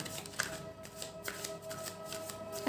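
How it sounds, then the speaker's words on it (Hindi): Tarot cards are shuffled by hand in a quiet room, producing soft repeated riffling bursts at close range with no voices. "कुछ और कार्ड्स देखते हैं हम"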